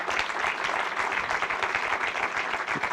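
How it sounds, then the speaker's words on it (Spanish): Audience at a book presentation claps steadily, a dense, even burst of many hands that continues at a moderate level for the whole stretch. "Un aplauso."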